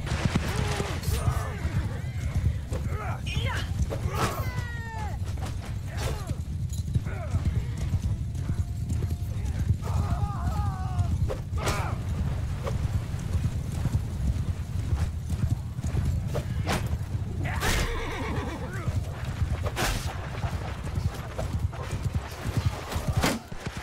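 Cavalry horses gallop in the Mount and Blade Bannerlord video game, a steady drumming of hoofbeats with occasional whinnies over a loud, dense battle background, while people talk over it.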